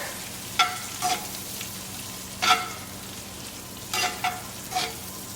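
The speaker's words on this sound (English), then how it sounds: "on medium heat, just let that cook together" Garlic-crusted drum with vegetables cooks over medium heat, a soft steady sizzle broken by a few brief scraping bursts from stirring, close and quiet.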